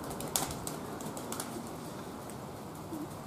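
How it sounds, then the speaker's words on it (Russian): The speaker's pigeons are heard in their loft: faint soft cooing and a few wing flaps and patters over a steady low background hum, with no talking. "вот мои голуби, вот."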